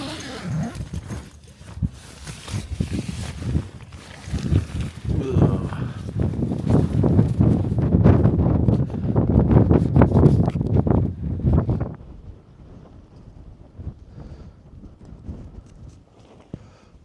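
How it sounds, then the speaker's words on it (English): Strong wind buffeting the microphone on an exposed summit crag at a bivvy camp, a loud, rough, gusting roar that builds and surges for several seconds, then drops back to a lower steady rush. "there's just no way I'm going to get this stove lit in wind like this"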